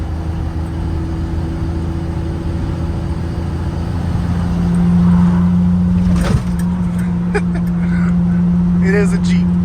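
A 1985 Jeep CJ7 fitted with Holley Sniper EFI drives along with a steady, loud engine drone that rises slightly midway, with a voice talking over it.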